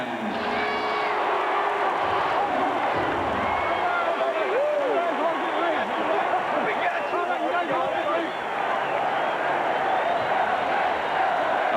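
A Super Bowl 33 stadium crowd at the Denver Broncos versus Atlanta game, a dense continuous roar of many voices and cheering heard under a close commentator's voice talking throughout.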